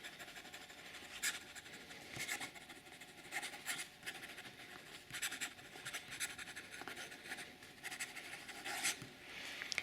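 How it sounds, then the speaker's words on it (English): Rapid scratchy strokes of a very fine fountain pen nib across paper, a quick close-up run of short bursts with the occasional skip, quiet and steady with no talking. "Fast writing."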